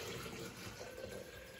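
Water pours steadily into a jug holding a mango for a mango lassi, making a continuous splashing, gurgling stream that stays even throughout, close by, with no talking.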